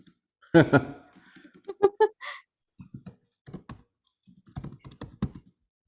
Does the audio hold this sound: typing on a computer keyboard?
yes